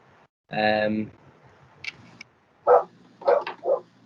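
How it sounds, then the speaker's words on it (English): A dog barks in a short burst early, then several more sharp barks follow, fairly close, over a quiet indoor background with rain clatter mentioned outside. "And sorry about the barking."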